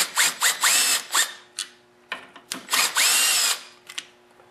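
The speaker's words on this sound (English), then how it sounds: "A small cordless impact is much quicker." Small cordless impact driver removing 5/16 screws from a Briggs & Stratton Quantum lawnmower, short close whirring and hammering bursts in quick succession with pauses between.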